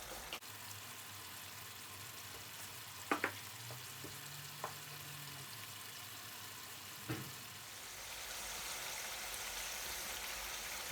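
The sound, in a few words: garlic chicken madras curry sizzling and splattering in pan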